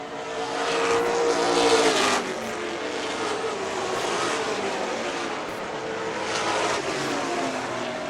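Pro stock race cars roar around an oval track in a continuous dense engine drone, loudest early as a pack passes close and then holding steady at a broad rumble.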